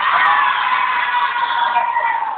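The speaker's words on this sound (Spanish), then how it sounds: "Aplausos para la número 2." A loud crowd at a live dance contest cheers for the second contestant, a steady roar of screams and whoops that holds level and fades slightly at the end.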